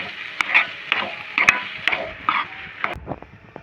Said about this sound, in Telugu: ధనియాల పొడి వేసుకొని ఒక్క రెండు నిమిషాలు ఆయిల్లో ఫ్రై కావాలి